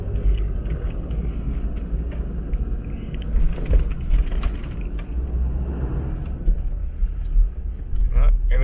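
Land Rover Discovery 2 cruising slowly around a residential complex, a steady low engine rumble and road noise from inside the cabin with occasional small rattles and clunks.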